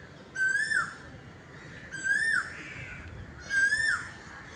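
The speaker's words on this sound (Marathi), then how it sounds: "कोकिळेचा आवाज येतो तो." Asian koel in a tree on a hillside repeats its rising whistled call three times at steady intervals, clear and fairly near against faint ambient background.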